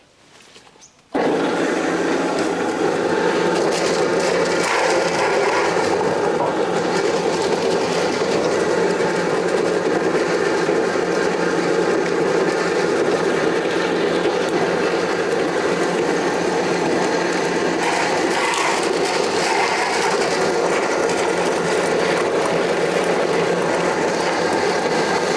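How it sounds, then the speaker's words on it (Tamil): A coconut dehusker machine starts up and peels dry copra coconuts, settling into a loud continuous mechanical roar with grinding, rattling texture and steady intensity, no speech. "வாங்க, நான் நம்ம மிஷினில் உரிச்சு காமிக்கிறேன் உங்களுக்கு"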